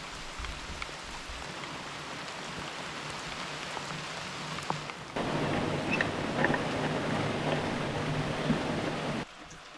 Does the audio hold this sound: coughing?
no